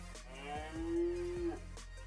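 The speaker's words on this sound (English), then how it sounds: "This is what cows sound like." A single drawn-out cow moo plays back clearly through a Google Nest Hub smart speaker, fairly quiet and with no one talking.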